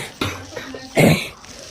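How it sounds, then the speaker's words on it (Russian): Schoolchildren in a classroom break into coughing before a maths test, with a burst of several loud, harsh coughs near the middle over a murmuring room. "все начнем кашлять"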